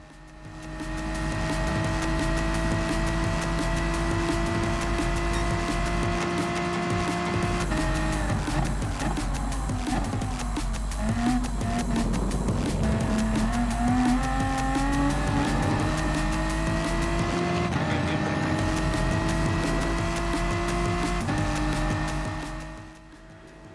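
Race cars in Gran Turismo Sport roar steadily up and down through their gears, engine pitch rising and falling across a long continuous run, with occasional tire squeal and no talk.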